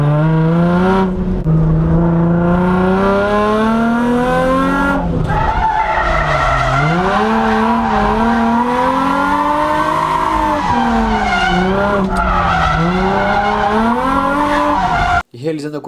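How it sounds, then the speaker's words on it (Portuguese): A car drifting hard through a tight curve, with loud sustained tire squeal and skidding rising and falling alongside a revving engine, close and dominant for most of the clip before cutting off abruptly near the end. "eu tô vindo muito rápido e o carro tá espalhando muito"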